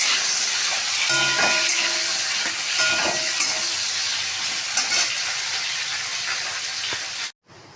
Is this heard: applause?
no